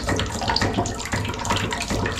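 Strong water gushes steadily through a float-valve setup, a loud, continuous rushing and splashing with no pauses and no voices.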